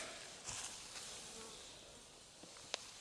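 Honey bees buzz steadily around an open top bar hive in a backyard, a dense even drone heard close. Only a few faint knocks and a sharp tick break the sound.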